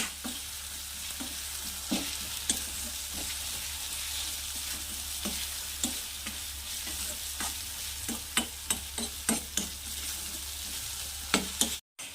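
Masala paste frying in a pan for a Marathi vegetable dish, stirred steadily: a constant close sizzle runs throughout, broken by scraping spoon strokes that quicken into a run of sharp scrapes near the end.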